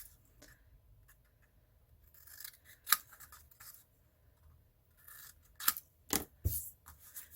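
Scissors trim the corners of a covered chipboard decorative box, giving several sharp, close snips spaced a second or two apart over soft rustling handling.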